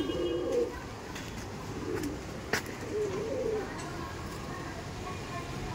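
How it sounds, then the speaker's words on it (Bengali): Madrasi pigeons cooing in a loft, several soft low throaty coos spread across the clip amid wing rustles and a sharp click, with a faint background voice. "খুবই ছটফটে পায়রা।"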